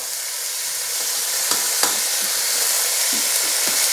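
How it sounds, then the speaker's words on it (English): Ox cheeks frying in a pan keep up a loud, continuous sizzle while being flipped, with a few distinct knocks and scrapes of the utensil, close by and without talk. "So let's flip those over."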